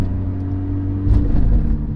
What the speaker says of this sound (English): I thought the bigger turbo would make the car less raspy too, because of how much stuff is flowing.